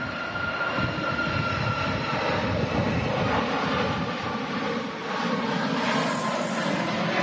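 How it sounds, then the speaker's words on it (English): A Ryanair jet taking off at Manchester Airport on a windy day, a loud continuous engine roar under full power holding steady throughout with wind noise mixed in. "Well, there is a Ryanair taking off."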